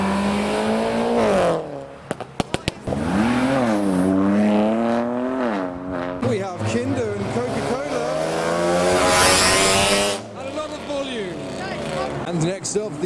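Modified cars leaving a car show rev hard and accelerate past, including a purple Lotus Esprit and a Supra, with rising and falling engine notes, some tire noise and popping, under a voice talking throughout.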